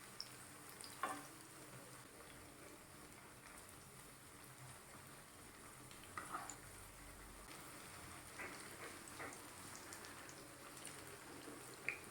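Snacks of rice flour and semolina frying in refined oil over a lowered gas flame, a steady close crackling sizzle that runs throughout with occasional louder pops and stirring clinks.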